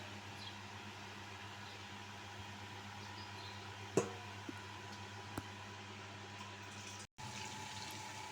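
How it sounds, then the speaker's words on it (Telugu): Water is poured into a simmering tamarind fish curry (chepala pulusu) with marinated fish pieces, giving a steady, even rush over a low kitchen hum, broken by a couple of sharp clicks and a brief drop near the end. "కన్సిస్టెన్సీని బట్టి కొద్దిగా వాటర్ యాడ్ చేసుకోవాలి."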